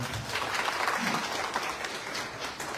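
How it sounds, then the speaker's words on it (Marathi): Applause from an audience of senior citizens at a political gathering, a dense wash of clapping that holds steady for a few seconds. "त्यांच्यासाठी एकदा सगळ्यांनी टाळ्या वाजवा."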